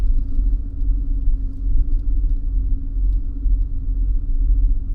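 A car engine idles in neutral during a coastal road trip in California, a steady low rumble that holds even throughout with no revving, close and alone.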